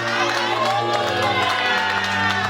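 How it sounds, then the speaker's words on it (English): Church congregation clapping and shouting together during a sermon, a dense continuous roar of voices and hands with organ or keyboard tones sustained underneath, loud and close throughout. "Somebody clap your hand for the truth and shout hallelujah."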